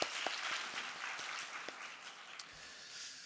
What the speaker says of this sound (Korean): 같이 격려의 박수 같이 해보시겠습니다.